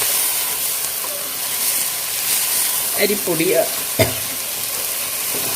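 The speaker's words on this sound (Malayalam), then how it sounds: "നമുക്കിത് ചെറുതായിട്ടൊന്ന് വഴറ്റി കൊടുക്കാം." Ingredients sauté in olive oil in a pan for fish biryani, a soft continuous sizzle with a few stirring scrapes and clinks of the spoon against the pan partway through.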